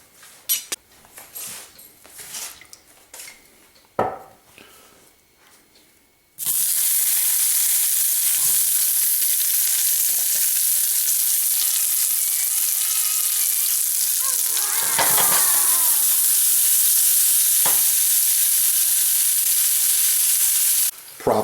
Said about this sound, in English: I'm just going to cut them all in half, give them a quick saute